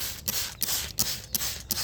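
A sprayer mists natural bug control onto leafy greens in a garden in about five repeated hissing bursts, each separated by a brief pause. The sound is close and fairly loud.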